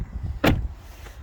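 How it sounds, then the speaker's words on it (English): A single short mechanical clunk from a Porsche Panamera Turbo's keyless door handle as the car unlocks, close and fairly loud over quiet background. "if I try and open it, it will unlock it again"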